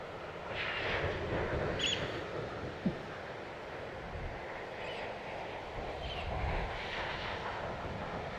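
A small drone hovers overhead outdoors, its steady buzzing drone rising and falling slightly with wind noise, fairly faint and continuous with no talking.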